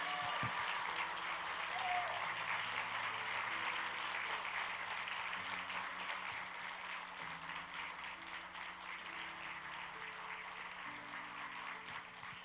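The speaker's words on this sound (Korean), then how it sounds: "우리 박수로 맞이하도록 하겠습니다" Sustained applause from a church congregation welcoming a guest preacher fills the whole stretch, steady and dense with a faint murmur of voices underneath.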